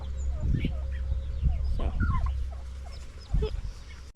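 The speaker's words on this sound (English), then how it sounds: "Now we'll go check on the littler turkeys and see if they need water." Young turkeys on a farm during morning chores, several short gobbles and clucks at moderate distance over a low steady hum, with a voice briefly speaking.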